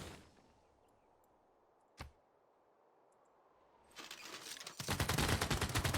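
Machine guns firing against a scout unit in the strategy game Civilization 6: a single sharp shot after near silence, then a rising burst of rapid rattling automatic fire growing louder at the end.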